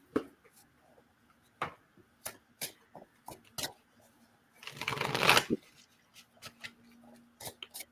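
Cards are handled and shuffled during an intuitive reading: scattered soft snaps and flicks, then a dense riffling burst in the middle, followed by more light taps, close and quiet with no talking.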